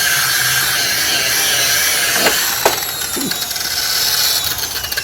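Power polisher working on a car headlight, a steady close whirring drone with a few light knocks and scuffs over five seconds.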